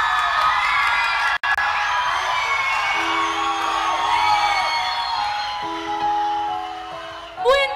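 Crowd cheering, whooping and applauding loudly and continuously, then a tone and a swooping sound effect close it out.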